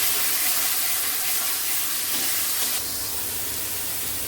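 Spice paste frying in a pan for Bengali fish curry with drumsticks, a continuous close hiss and sizzle that stays strong throughout and eases slightly near the end.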